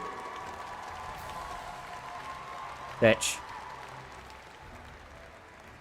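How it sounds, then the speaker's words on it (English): An audience applauds at the lower-bracket semi-finals of the live M5 esports tournament. Steady, moderately faint clapping from a large crowd continues throughout, with a brief louder burst midway, and a voice speaks once. "let's give a big round of applause to See You Soon"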